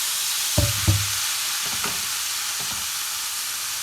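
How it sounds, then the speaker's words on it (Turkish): Water poured into sautéed sarma filling in a hot pan gives a steady broadband sizzle, with a few brief knocks and clatters near the start; no talking. "Şimdi e, bunun içine suyunu ilave ediyorum. Pişmesi için."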